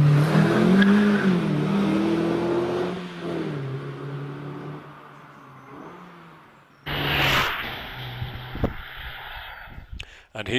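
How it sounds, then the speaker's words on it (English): A 2008 Mazda MX5 with a 2-litre engine races up the Prescott hill climb, its engine droning and fading into the distance before a sharp, loud burst of noise close by near the end. "he's followed by John White in a slightly newer MX5 from 2008 with a 2-litre engine"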